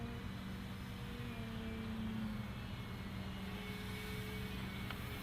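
A Dynam Devil 3D RC model airplane flies at a distance, its faint steady motor drone holding constant throughout with a slight pitch shift partway, and no talking.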